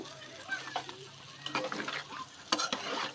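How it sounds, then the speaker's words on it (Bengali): Papaya chicken curry stirred in a pan, a spoon scraping and clinking in uneven strokes over a gentle sizzle, fairly quiet and close. "সুন্দরভাবে নাড়িয়ে নিন"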